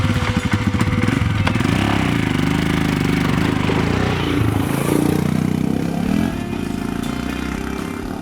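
A Royal Enfield Himalayan motorcycle rides a forest trail through a Basque Country valley. Its engine gives a loud, continuous close-up drone that rises and falls with the throttle, with no talking.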